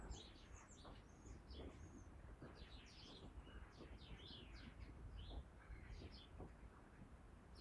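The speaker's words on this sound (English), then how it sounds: "I can hear the birds on the roof." Faint birds on a roof chirp and tweet in scattered short calls over a steady low background hum, distant and quiet throughout.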